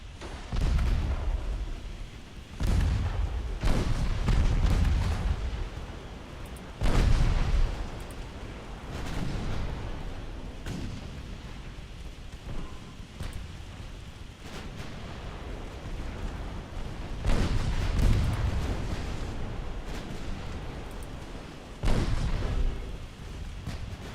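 Heavy naval guns firing in the Ultimate Admiral Dreadnoughts game, a series of deep booming blasts at irregular intervals, each followed by rumbling decay, loud and without talk.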